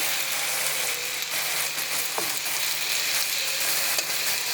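Sliced ridge gourd fries in oil in a pan, giving a loud continuous sizzle with faint scraping and stirring noises on top.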